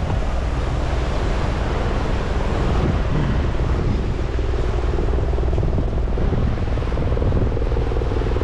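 A military helicopter flies over Coronado Beach as a loud, steady broadband rumble that fills the whole clip, blending with wind and surf, with no talk.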